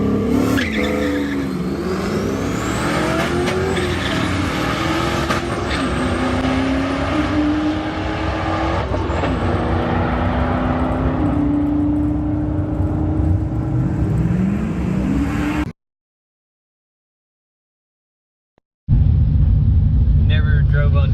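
A car running on drag slicks accelerates hard with engine revving and rising whine, loud and close, then cuts to silence before a brief low engine rumble resumes.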